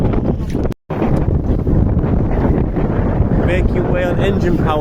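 A sailboat under engine power pushes through the water, giving a steady, loud broadband rush of wind and hull noise with a brief dropout near the start. Voices come through faintly under the noise.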